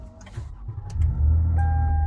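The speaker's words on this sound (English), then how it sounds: "let me start the car." A car engine cranks briefly, then catches and settles into a steady low idle close by, with a few small clicks before it fires and no voices.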